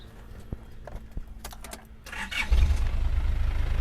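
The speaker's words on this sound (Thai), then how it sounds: "เดี๋ยวสตาร์ทให้ฟังนะครับ" Toyota Hilux Tiger Dragon Power pickup from 2001 starting up: a few clicks and cranking sounds, then the engine catches and settles into a loud, rough, close idle with a slight exhaust rattle.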